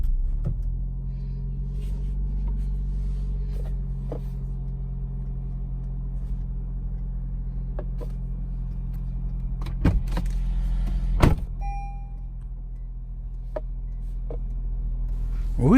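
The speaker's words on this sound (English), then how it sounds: "press the start button. The engine starts." A 2019 Lexus RX300 idles steadily after an emergency jump start in a multi-storey car park, a low, even engine hum with a few sharp clicks and knocks from inside the car.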